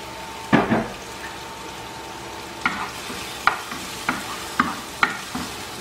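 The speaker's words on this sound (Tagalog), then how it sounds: "Dagdagan po natin ng konting oil para mag-fry siya ng konti." Vegetables for chop suey fry in a little added oil, and a stirring utensil clatters and scrapes several times against the pan over a low, steady sizzle.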